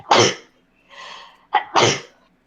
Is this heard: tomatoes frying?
no